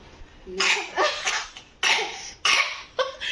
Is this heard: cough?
yes